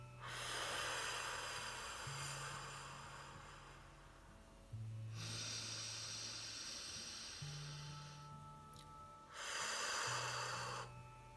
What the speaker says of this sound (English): Exhale deep.